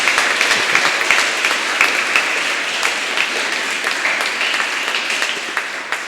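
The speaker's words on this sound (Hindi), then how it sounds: "हम सब तालियां बजाते हुए उनको धन्यवाद दें।" A parish congregation claps steadily to thank Bible quiz winners at a felicitation event, a continuous, dense and moderately loud round of applause lasting the full six seconds with little talk beneath it.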